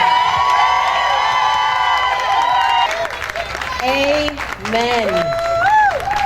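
A crowd at a Juneteenth celebration in Manchester, New Hampshire cheers, whoops and claps for the speakers. Sustained shouting voices ring out over the applause, and a short spoken word cuts in.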